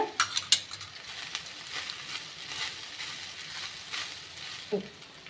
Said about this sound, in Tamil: ஜென்டிலாக மிக்ஸ் பண்ணி விட்டுக்கோங்க